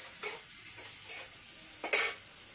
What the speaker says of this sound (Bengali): অল্প করে কপিটা ভেজে নিতে হবে